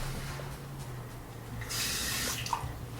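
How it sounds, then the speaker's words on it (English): Beef broth pours into a pressure cooker with a soft, steady liquid splash and trickle, heard alone and fairly faint, swelling slightly toward the end. "we're going to add a cup of beef broth or beef bouillon in there"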